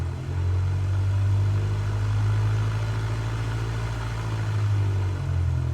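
A steady droning aircraft engine in a flight simulator, a loud continuous low hum with little change in pitch, heard alone without talk.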